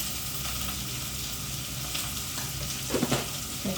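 Sliced onion sautéing in a pan for prawn theeyal, a steady close sizzle and crackle with a few stirring scrapes near the end.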